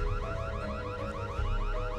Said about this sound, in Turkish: Alarmı da siz mi çalıştırdınız yoksa?